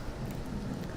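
Steady rain ambience with a low rumble of thunder underneath, a constant dense wash of sound with no talking.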